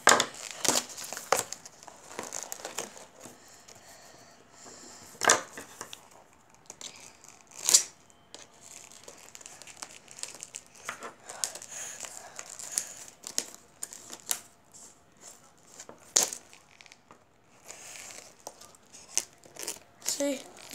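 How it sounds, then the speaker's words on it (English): Scissors cutting open a cardboard box: repeated sharp snipping and crinkling, irregular bursts close by with faint talk in between. "See, I'm cutting it with scissors."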